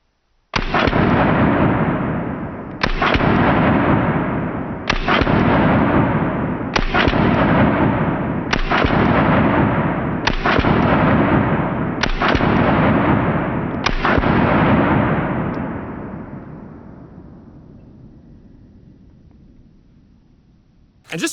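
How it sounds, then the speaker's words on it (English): Eight loud gunshots from an LFA Apollo 11 2011 pistol, fired at a steady pace about two seconds apart, each a sharp crack with a short echoing tail, the last one decaying into a long fading reverberation. "Let's shoot it again."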